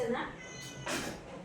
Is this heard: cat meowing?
yes